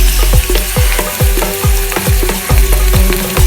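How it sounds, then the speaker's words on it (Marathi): Prawns frying in a pan over an open fire in a Goa jungle, a steady loud sizzle broken by regular scraping stirs about twice a second, with no talking. "आणि परत एकदा कायल भरून सुंगटा फ्राय करपाक घातलेले असा"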